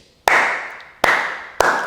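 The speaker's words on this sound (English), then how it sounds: "Slow clap." Three slow, evenly spaced hand claps ring out loud and close, each sharp crack trailing off before the next.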